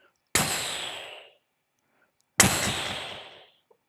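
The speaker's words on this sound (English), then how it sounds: "Those are firecrackers, fireworks." Two sharp firework or firecracker bangs about two seconds apart, each with a crisp attack and a fading echoing tail, isolated against silence.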